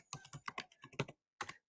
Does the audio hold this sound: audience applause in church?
no